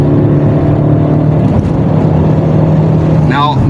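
A remapped Alfa Romeo MultiJet 150cv diesel engine revs steadily toward about 5,000 RPM, a loud continuous drone with a brief rising whine near the end.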